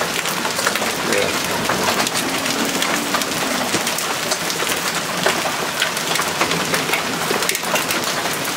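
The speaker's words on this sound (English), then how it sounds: "that's a big piece of hail." Hail falling hard during a May thunderstorm, a dense continuous patter of icy pellets striking grass and ground at close range, with brief talking over the steady clatter.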